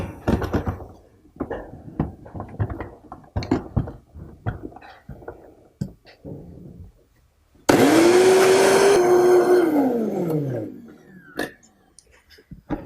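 A kitchen blender grinds finely chopped mugwort with a little water for rice cakes, a loud steady whir of about three seconds that winds down, after several seconds of quieter tapping and handling sounds.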